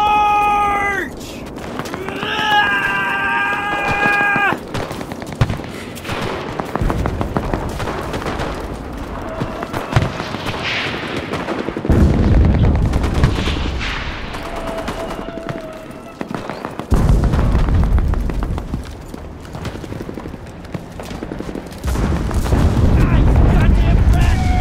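Artillery barrage in the video game Enlisted, Pacific War battle between U.S. and Japanese forces at Gavutu North: loud repeated booms and rumbling blasts over several long stretches, mixed with gunfire and shouted voices.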